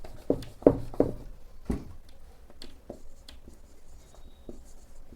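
Marker or chalk strokes on a board during a class 10 trigonometry lesson, several quick firm taps and scrapes early, then lighter intermittent strokes, close-up and without speech.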